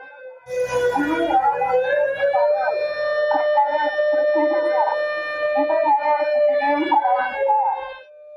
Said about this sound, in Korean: 면사무소에서 쉴 새 없이 사이렌이 울립니다.